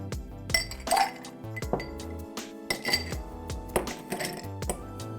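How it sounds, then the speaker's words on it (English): Ice cubes drop into a highball glass for a lemongrass gin cocktail, a series of bright, close clinks and knocks of ice against glass arriving in uneven bursts. "Ice to the top."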